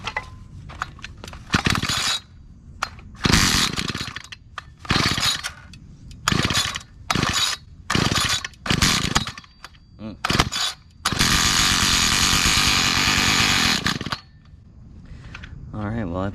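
A garden tiller's small engine is pull-started with primed fuel: a run of repeated short bursts of cord pulls and sputters, loud and close, then a few seconds of steady rough running before it cuts out.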